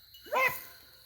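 An older dog gives a single short bark at a distance, faint and brief against a quiet outdoor background during a rabbit hunt.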